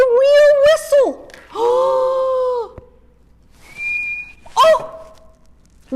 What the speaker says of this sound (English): out came a real whistle.